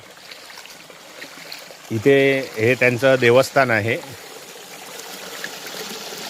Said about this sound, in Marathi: हा एकदम पाण्याचा निर्मळ असा झरा आहे